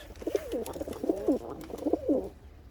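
Pigeons in a loft coo in a steady run of soft, throaty, rolling calls, close by, with a faint low rumble underneath and no talking.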